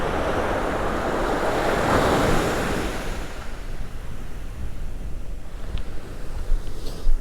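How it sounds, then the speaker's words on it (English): Gentle surf washes steadily onto a beach under calm ocean conditions, a soft continuous wash with light wind buffeting the microphone and a few faint clicks near the end. "That water is so calm out here today."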